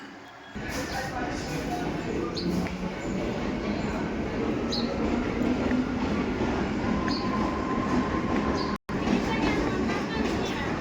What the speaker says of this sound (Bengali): এই আমার ট্রেন দাঁড়িয়ে আছে, কলকাতা সাইরাং এক্সপ্রেস